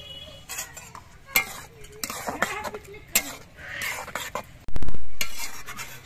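A spoon stirs ground mustard and poppy seed paste with green chilli and salt into green tomatoes in a pan, an irregular series of scrapes and clinks of metal on cookware, with a soft sizzle and a heavy thud near the end.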